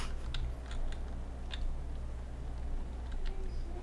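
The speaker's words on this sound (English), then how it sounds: "I hear Yuri typing" Typing on a computer keyboard during a CS:GO 2v2 match voice call, faint scattered key clicks in short irregular bursts over a low steady background hum.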